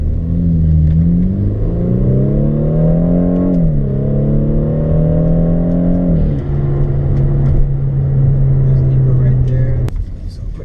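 A BMW 428i engine rumbles and revs up and down nearby through its exhaust, then settles into a steady low idle burble.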